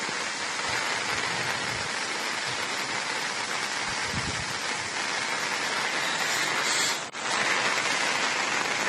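Heavy continuous monsoon rain at Triveni Sangam in Bhagamandala, Kodagu, with floodwaters around, heard as a dense, steady hiss of downpour throughout and no talk.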